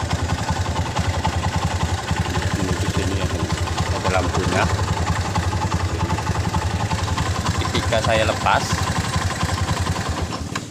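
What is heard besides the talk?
Honda Mega Pro motorcycle engine running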